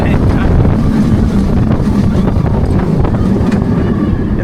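Wind rushes past riders on Falcon, a B&M wing roller coaster at Wuxi Sunac Land, ridden facing backward. A loud, continuous roar of air buffets the microphone without letup.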